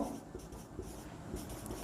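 Marker or chalk scratches across a board in short, faint strokes during a trigonometry lecture, a soft rhythmic scraping with no speech.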